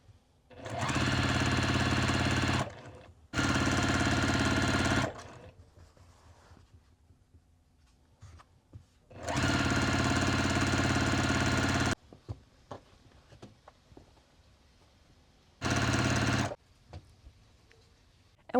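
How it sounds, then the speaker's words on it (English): A sewing machine stitches jelly roll fabric strips together in four loud, steady runs of a few seconds each, separated by quiet pauses with faint handling noise. "You're going to sew these in order."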